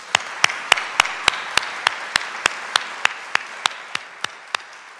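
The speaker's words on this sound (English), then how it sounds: "I'd just like to give them a shout out and a round of applause" At an athletic hall of honor induction ceremony, hand claps for the athletic trainers ring out in a slow, evenly spaced run of about sixteen sharp, distinct beats, each one alone over a quiet room.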